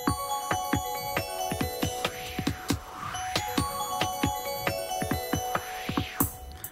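Music from a level of the video game Ape Escape, a busy track of percussive hits, chiming tones and swooping synth sweeps, played fairly quietly with no talking.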